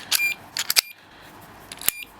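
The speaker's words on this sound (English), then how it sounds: "Okay, so it's beeping." Several sharp, high-pitched electronic chirps from an alarm padlock sound in short irregular bursts, clustered early and once more near the end, over quiet background.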